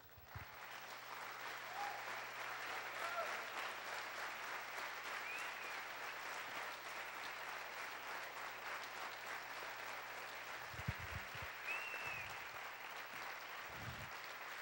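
Congregation in a church clapping for a sustained stretch during an evening Feast of Tabernacles service, dense steady applause throughout with a few low thumps near the end.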